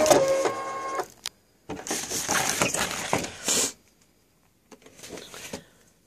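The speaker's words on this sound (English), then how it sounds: "Now I want to unload my scanning mat." A Brother ScanNCut cutting machine unloads its scanning mat with a printer-like whir and clatter of rollers, in two loud bursts separated by a short pause, then a fainter mechanical run near the end.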